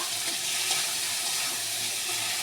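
Water is poured into a cooking pot of fried spice mixture for soya chunk kofta curry, making a steady, soft rushing splash that runs continuously for a few seconds.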